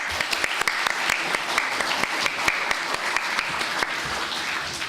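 An audience at a lieutenant governor candidate forum on culture gives a round of applause, many hands clapping in a brisk, crisp patter with a few sharper individual claps near the front.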